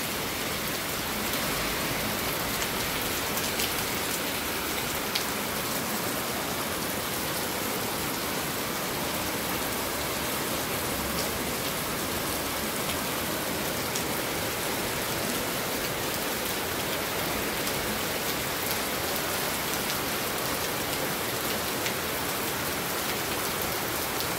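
Heavy monsoon rain pours down steadily in Karjat village, a dense, even hiss of drops hitting surfaces that continues without pause.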